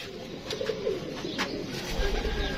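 Rampuri pigeon of the Miyan Sahib bloodline cooing up close, a soft low repeated coo over a steady background hum, with no talking.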